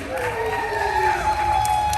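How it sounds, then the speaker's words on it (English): An audience at a live science show in the Oklahoma Science Museum cheers and whoops with clapping beneath, a steady crowd roar with a raised voice riding over it. "One more round of applause."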